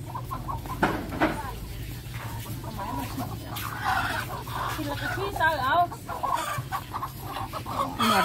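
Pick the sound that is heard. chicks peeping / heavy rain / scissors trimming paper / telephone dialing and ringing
chicks peeping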